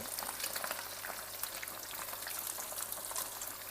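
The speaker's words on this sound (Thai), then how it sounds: "ปลากระพงตอนลงทอดอย่าไป เขี่ยอย่าไปอะไรเลยนะครับ" Sea bass deep frying in hot oil, a dense continuous sizzle and bubbling crackle held at close range with no talk.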